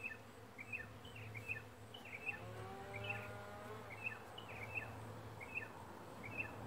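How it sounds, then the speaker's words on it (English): Honeybees buzz steadily around a wine barrel outdoors during a hive removal, a continuous low drone with faint repeated chirping birds in the background. "So now we just got to get the bees over there."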